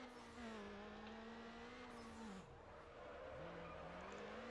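A tuned car in the Need for Speed Underground video game drifting on the handbrake, a loud sustained engine whine that rises and dips with a tire skid, heard alone with no speech.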